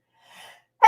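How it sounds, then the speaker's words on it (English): A single human sneeze, a faint breathy intake followed by a sharp, loud, abrupt burst at the very end. "I'm sorry you had to share in my sneeze."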